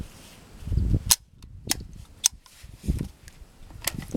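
An AK VEPR rifle fitted with a muzzle brake fires several sharp, loud single shots spaced about a second apart outdoors, with mechanical clatter and movement noise between them.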